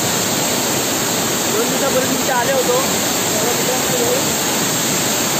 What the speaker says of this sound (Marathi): कसा वाटला धबधबा?